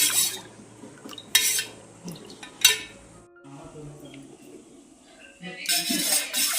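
Mango juice sherbet is stirred in a metal vessel at home, with a few sharp clinks and scrapes spread apart over quiet background, along with birdsong and a little talk.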